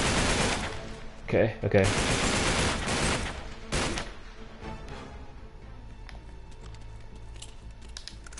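Uncharted 3 video-game gunfire, loud automatic bursts and shots packed into the first four seconds, then fading to quieter ambience while a voice briefly speaks.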